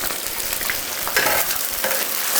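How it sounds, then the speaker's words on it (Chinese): Pork ribs sizzle and crackle after going into hot fat rendered from pork in a rural Chinese home kitchen, a dense, loud frying hiss that swells as they are stirred, with no talking. "把这个油基本上煸的有点干了，现在可以下排骨了。"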